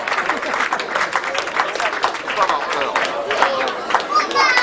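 A crowd after a match claps for the mascot performer in a lively, uneven burst, with chatter and children's voices mixed through the clapping.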